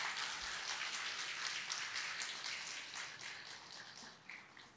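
A church congregation applauds at a Wednesday worship service, a fairly faint patter of many hands clapping that holds steady and then gradually thins out toward the end.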